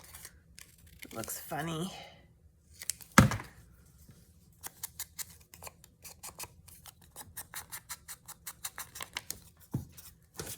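Scissors trimming paper for a junk journal, a few short snipping and crisp rustling bursts, then a run of quick light snips, with a brief spoken remark early on.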